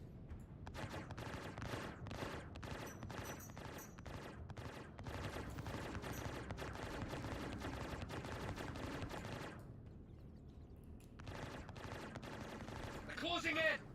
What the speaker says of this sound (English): PDC's ripping him